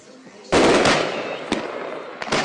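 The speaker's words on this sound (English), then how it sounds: "ends with fireworks of a different kind" Fireworks explode at a Victory Night celebration, with sharp loud bangs followed by crackling and a few further distinct pops trailing off, over a noisy crowd background.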